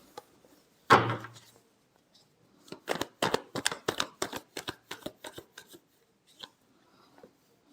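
Tarot cards shuffled by hand: one sharp slap near the start, then a quick run of crisp riffling flicks and taps, close and fairly loud, ending in a couple of lone taps.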